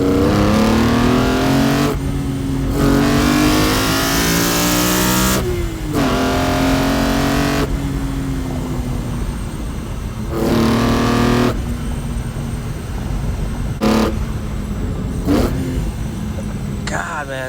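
BMW E46 M3 with a CSL intake driven hard on a mountain road, the engine revving high and dropping through repeated gear shifts, loud and close from inside the car, with bursts of intake roar between lifts.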